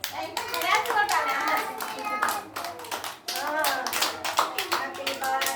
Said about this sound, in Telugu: అందరు మీరు క్లాప్స్ కొట్టండి. క్లాప్స్ కొట్టాలి